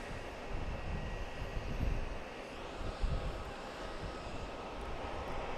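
A United heavy jet departs runway 22 right at Boston's Logan Airport, its engines a broad, steady roar heard from a distance with a continuous low rumble and no talking.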